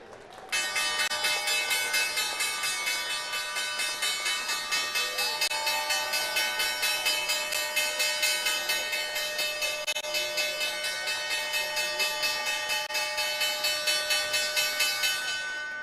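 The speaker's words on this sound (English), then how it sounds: "Time now for the iconic closing bell." The New York Stock Exchange closing bell on Wall Street rings in a long, steady rapid-fire peal that lasts about fifteen seconds, bright and sustained, with crowd noise faintly underneath.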